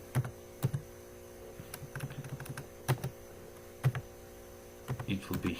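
Keys clack on a computer keyboard as someone types code in Turbo Pascal. The keystrokes are close and irregular, with short runs and pauses over a steady electrical hum, and someone speaks quietly in between.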